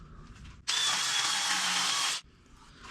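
A loud, high whirring of a spinning wood lathe with sanding abruptly starts, holds steady for about a second and a half, then cuts off, leaving quiet background.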